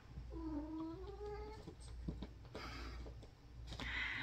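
A cat named Churro gives a drawn-out, wavering meow near the start, followed by softer rustling and faint chirping sounds in a quiet bedroom.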